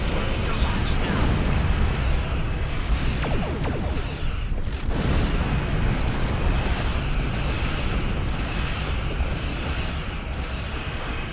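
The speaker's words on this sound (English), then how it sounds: "Target shields have failed. Recommend torpedo launch now." Heavy, continuous booming and rumbling explosions fill a space combat game as a starship launches torpedoes, with a spoken voice over the loud barrage.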